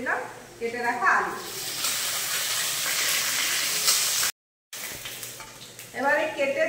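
Cut potatoes fry with onions in a pan in a home kitchen, a close steady sizzle and hiss, with someone talking briefly at the start and again at the end.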